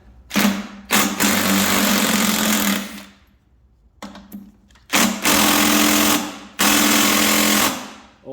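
An old Snap-on impact wrench working Torx bolts loose during a transmission teardown, loud sustained rattling hammering bursts of a few seconds each, separated by brief pauses.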